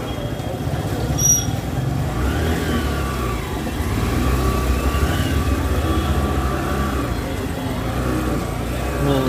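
A motorbike ride through busy Varanasi street traffic from Dashashwamedh Ghat toward Godauliya market, engine droning and revving close by amid surrounding traffic noise, with a high horn toot early on.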